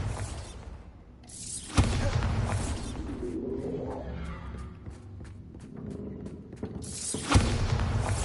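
A Bombarda blasting spell goes off in the Hogwarts Legacy video game, giving two sharp booming explosions several seconds apart. Whooshing, rumbling game ambience fills the space between them.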